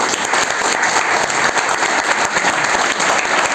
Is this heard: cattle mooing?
no